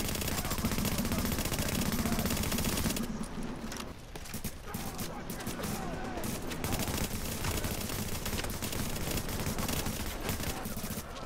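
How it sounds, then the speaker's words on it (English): Dense gunfire from the video game Tom Clancy's The Division rattles continuously in sustained automatic bursts, loud and close throughout with no clear pauses, while a voice is faintly present beneath it. "Oh, I shot another player."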